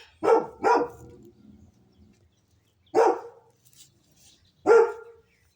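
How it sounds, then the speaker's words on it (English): A dog barks outdoors in a garden near fabric raised beds: a quick double bark, then two single barks after pauses, moderately near and alone without talk. "enjoy the sound of the dog"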